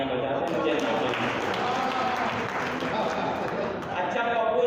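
An audience claps steadily at a Hindi comic poetry gathering in Haridwar, a dense continuous wash of applause that holds at an even level for several seconds.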